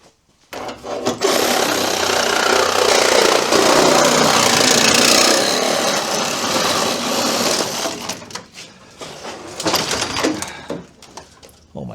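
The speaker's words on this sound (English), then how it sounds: "I'm just gonna come in here with a Sawzall." A Sawzall reciprocating saw cuts through a damaged part, a loud, harsh, continuous buzzing rasp that starts abruptly, holds for several seconds, then fades into choppy bursts and stops.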